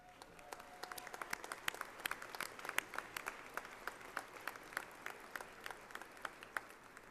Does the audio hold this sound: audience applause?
yes